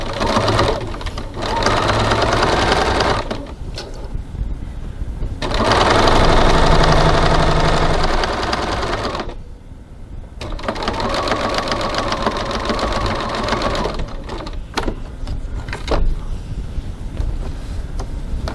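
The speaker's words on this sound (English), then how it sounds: "now we're going to baste the side edges of our pocket together using a 3 millimeter 1/8 of an inch seam" A sewing machine bastes the side edges of a pocket with a short 3 mm seam, running in long steady bursts with brief pauses between, close and loud with a constant mechanical whir.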